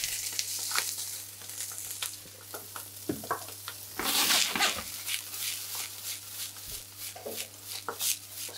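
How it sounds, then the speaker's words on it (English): Sea bream stir fry hitting hot rapeseed oil in a pan, giving a steady close hiss of sizzling with a few louder spits and scrapes as the food is moved around. "In with the rapeseed oil. Any other oil at this point now would be setting on fire. You don't want that to be happening. In we go with the stir fry."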